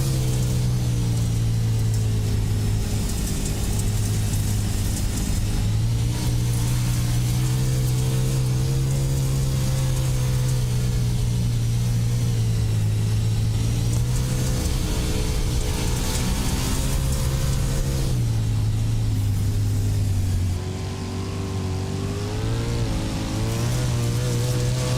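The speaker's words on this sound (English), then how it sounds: "Let's turn up the sound of the engines." Dirt-track race car engines roaring at the iRacing Knoxville Nationals sprint car event, a loud sustained drone rising and falling in pitch with the throttle, continuous throughout.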